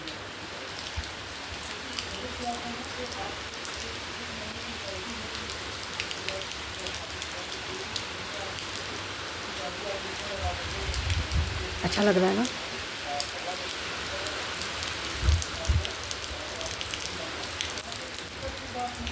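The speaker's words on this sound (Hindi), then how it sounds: "बाहर बाहर में अभी बारिश हो रही है, और देखिए कितनी अच्छी बारिश हो रही है" Steady rain falling outside, a continuous close hiss of drops on surfaces, with a brief soft remark from a woman partway through and a few faint knocks.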